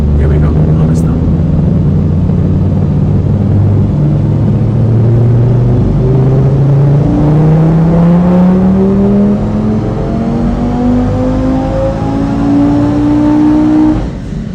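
Audi RS3 with a 2.5 TFSI five-cylinder and a 700 hp turbo kit roaring through a dyno pull, the engine note climbing steadily in pitch for over ten seconds at high volume before backing off.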